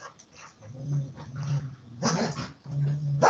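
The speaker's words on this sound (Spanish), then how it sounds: "los perros están acá, juegan un poco bruto, pero no se pelean" Dogs playing roughly with each other, growling in low rumbling bursts with a few whimpers and yips, fairly close and moderately loud, with no talk over it.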